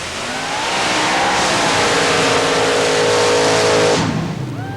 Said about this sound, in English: he is driving Addicted to Mud, a 406 cubic inch blowing alcohol burning Chevy small block